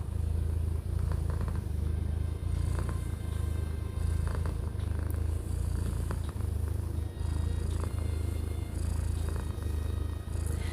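A pet cat purrs steadily while being stroked, a close, loud, continuous rumble pulsing in even breaths with no talking.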